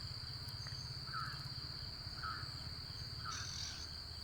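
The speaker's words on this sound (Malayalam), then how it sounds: "അതിൻ്റെ ഇടയിൽ എന്തൊക്കെയോ പക്ഷികളൊക്കെ ചിലയ്ക്കുന്നുണ്ട്" Faint bird calls chirp a few times at spaced intervals around 4:30 at dawn, over a steady drone of insects and low background hum.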